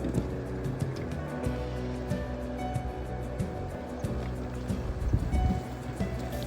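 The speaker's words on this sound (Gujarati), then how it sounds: "ઓવરફ્લોમાં જબરજસ્ત પાણી આવે રૂપિયન નદીમાં" The flooded Rupen river rushes over its banks after a night of cloudburst-like rain, a continuous broadband roar of churning water heard from nearby, steady with small surges throughout.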